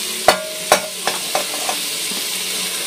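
Six finely chopped tomatoes going into a pan for pulao, with sharp clinks of a spoon against the pan and a soft sizzle and stir underneath, the clinks fading as the stirring continues.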